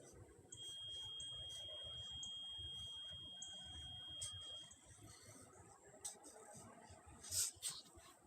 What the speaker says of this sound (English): It's an alarm over here somewhere.